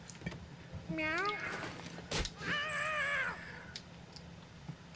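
Cartoon cat in South Park: The Fractured but Whole letting out two drawn-out, wavering meows close up, separated by a sharp click, over a quiet game background.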